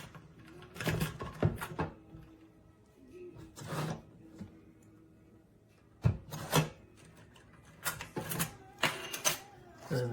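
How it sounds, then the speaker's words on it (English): A small metal trim plate slides into place over the key lock of a compact biometric safe, producing soft scraping, rubbing and light clicking handling noises in scattered bursts, close and quiet. "And then this little trim plate just slides on, basically just to cover the key lock."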